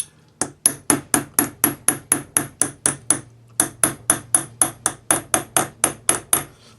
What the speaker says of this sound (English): as I hammer, what I do is I just slowly move the punch